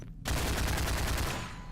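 Automatic fire from the AR-2 rifle in Half-Life 2 erupts after a brief silence and rattles on loud and close in a dense, continuous burst for about a second and a half.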